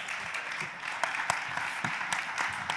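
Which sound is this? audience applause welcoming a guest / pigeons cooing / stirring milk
audience applause welcoming a guest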